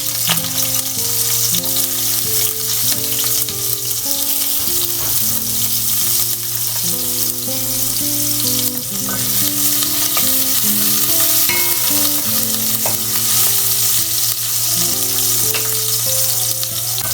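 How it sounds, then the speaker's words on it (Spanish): Chopped onion frying in hot oil in a pot for a simple home recipe, a loud, steady, close sizzle that never lets up, with occasional stirring scrapes and no talk. "le voy a poner un poquito de aceite y lo voy a dejar calentar un poquito. Primero le voy a poner la cebolla."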